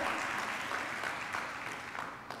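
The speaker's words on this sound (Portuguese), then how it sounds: "Dá um aplauso para o Espírito Santo de Deus." A church congregation applauds, a fairly faint, even spread of many hands clapping that holds steady before tapering slightly.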